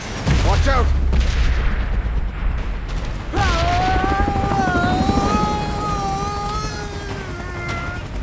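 Aircraft in the BGMI video game drones and whirs steadily throughout, with a loud rumbling low end, several booms and gunfire-like bursts early on, and rising whining tones joining after a few seconds.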